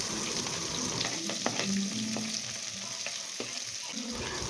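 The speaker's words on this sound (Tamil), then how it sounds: "எல்லாத்தையும் நல்லா மிக்ஸ் பண்ணி விட்டுக்கோங்க வெங்காயம் நல்லா வதங்கணும்" Chopped onions, green chillies and curry leaves sizzle and fry steadily in hot oil for a Tamil chicken curry, with occasional scrapes and knocks as they are stirred in the pan, close and continuous.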